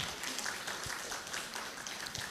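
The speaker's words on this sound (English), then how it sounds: "Please give him applause." Faint, distant applause from a conference audience greets a professor taking a seat on stage, a soft, diffuse patter of hands with no other sound standing out.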